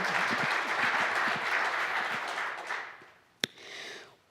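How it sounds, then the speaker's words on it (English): An audience claps at a panel event on women returning to society after prison. The dense, steady applause fades out after about three seconds and is followed by a single sharp knock. "Please give them a warm round of applause."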